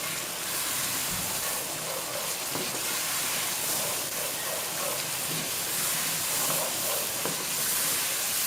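Onion paste hitting hot oil in a pot while cooking mutton trotters, giving a steady, dense frying hiss that holds evenly throughout, close and fairly loud, with no talking.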